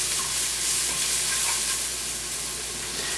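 Onions frying in a pan for a cheesesteak sandwich give off a steady, close, even sizzle throughout, with a faint low hum beneath and no voices.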